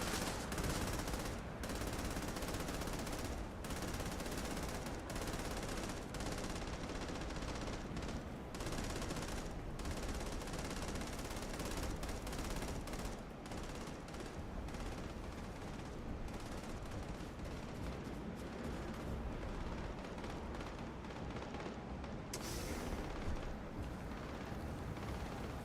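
Sustained heavy gunfire from the sci-fi video game Starfield, dense overlapping bursts and rapid automatic shots crackling without pause for the whole stretch, loud and close, with no talking over it.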